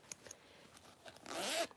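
A zipper sewn into a handmade belt bag is pulled open in one quick, close rasping stroke after a few faint handling taps.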